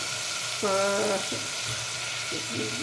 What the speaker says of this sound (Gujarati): અજમો થાય ને એટલે આદુ લસણની પેસ્ટ એડ કરી દેવાની